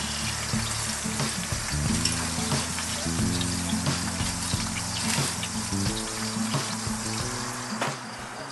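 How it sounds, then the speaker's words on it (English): Burger steak sizzling in a frying pan, a dense crackling hiss with scattered pops and clinks of utensils, loud and continuous throughout. "Hear that sizzle?"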